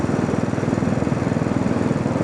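A Royal Enfield motorcycle on a morning road ride, its engine thumping in a fast, even pulse, loud and close, with wind roar underneath.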